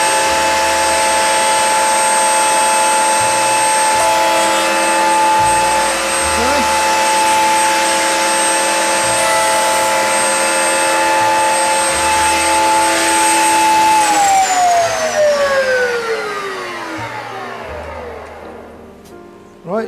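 A router cuts dovetail test joints in wood on a Gifkins dovetail jig, whining loudly at a steady high pitch for most of the time, then spinning down gradually toward the end.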